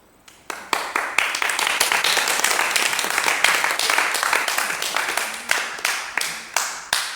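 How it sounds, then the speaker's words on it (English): Congregation applauding at the close of a church service sermon, a burst of many hands clapping that swells quickly, holds steady, then thins into scattered final claps. "I don't usually get an applause."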